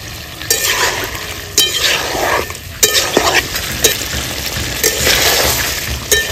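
River rithe fish curry with chopped tomatoes is sautéed in a pan, a loud steady sizzle broken by sharp clinks and scrapes of a stirring utensil.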